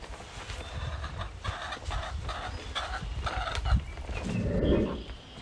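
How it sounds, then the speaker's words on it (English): A backyard chicken squawks and clucks near a lawn being spread with fertilizer, a busy outdoor scene with faint rustling and a louder burst of plastic crinkle near the end, no talk. "chicken down here, if you can hear him squawking"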